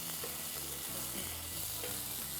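Onion garlic paste stir fried in a pan over medium heat gives a steady, dense sizzle that never lets up, with soft scraping stirs beneath it and no talking.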